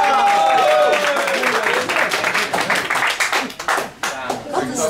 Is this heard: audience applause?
yes